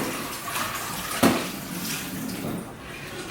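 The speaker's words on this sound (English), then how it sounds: "Gotta rinse it out." Running water splashes as something is rinsed out at a sink during cooking, a short, moderately loud wash of sound with a brief louder splash.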